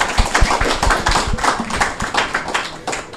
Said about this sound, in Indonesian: Kita tepuk tangan bersama Bapak Ibu.